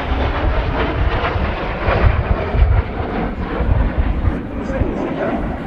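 Two de Havilland Vampire jets, an FB.6 single-seater and a T.55 two-seater, roar in a flying display at RIAT, a loud rumbling jet noise heard under a commentator's voice over the public address.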